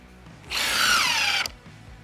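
An impact driver drives a screw into timber in one loud burst of about a second, with a steady, rattling hammering whine that cuts off abruptly and is followed by quiet.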